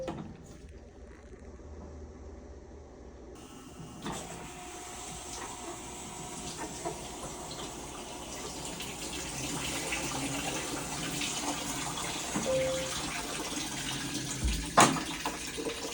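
Water rushing into a Whirlpool Maytag washing machine drum on the hot setting, a steady broadband hiss that starts soft and swells after a few seconds, with a faint mechanical click near the end.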